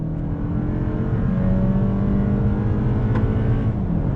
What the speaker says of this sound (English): Pulling out on the highway here. On throttle, here we go. 8-speed drops down.